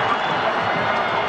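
A large football stadium crowd at Michigan Stadium cheers during a 2002 Michigan versus Michigan State game, a dense, steady roar of many voices that stays loud and continuous throughout.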